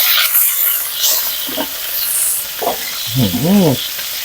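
Holy basil stir-fry ingredients, pad kaprao, hissing and sizzling loudly in a hot pan. A spatula scrapes and stirs in bursts, close up, with no talk.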